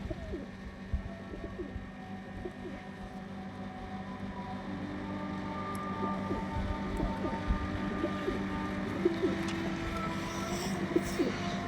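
Pigeons coo in a loft, overlapping low burbling calls running steadily for several seconds over a constant background hum.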